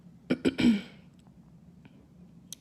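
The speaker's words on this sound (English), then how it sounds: "I keep on clearing my throat because I just had some good Jamaican food" A woman clears her throat in three quick, close, rough bursts that run together in under a second, followed by near silence and a faint short click.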